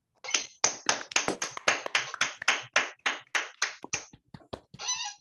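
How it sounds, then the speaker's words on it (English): Online audience clapping after a mathematics lecture, roughly a dozen and a half sharp, close claps in an uneven rhythm over a few seconds, ending in a brief rustle. "Please unmute yourselves and let's clap for Will"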